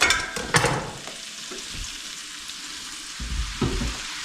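Onions and mushrooms frying in bacon grease on a homestead kitchen stove, a steady soft sizzle with a few louder clattering stirs near the start and end.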